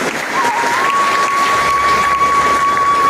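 Audience applause at a community award ceremony honouring meritorious members, a steady dense clapping from a large crowd that fills the whole stretch, with a faint sustained tone running underneath.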